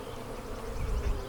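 Honey bees buzzing in an open hive of pre-waxed plastic frames during a split, a dense continuous low hum swelling slightly toward the end, close and steady with no voices.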